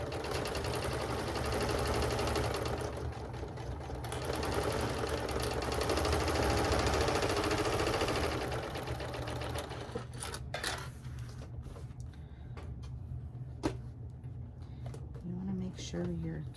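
A sewing machine stitches around a fabric notebook cover, running as a steady mechanical hum for several seconds. It then gives way to quieter clicks and handling sounds.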